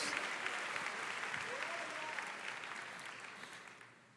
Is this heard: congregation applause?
yes